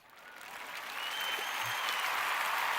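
Audience applause on a wrestling talk show, starting faint and gradually swelling into a steady, soft patter of many hands clapping at a distance.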